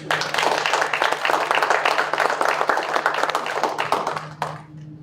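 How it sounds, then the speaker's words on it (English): Dense, steady applause from the audience at a school Board of Education meeting, many hands clapping together for several seconds before tapering off abruptly, with a low hum in the room. "Round of applause for our presenters."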